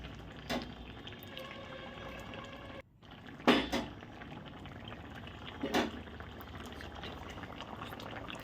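A pan of fish curry simmers with a steady bubbling hiss, broken by a few brief clinks of a utensil against the pot.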